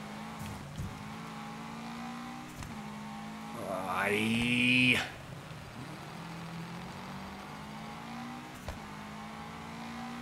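Engine of a rally car in a gravel racing video game revs steadily throughout, rising into a brief louder acceleration whine midway before settling back, with an occasional short voice.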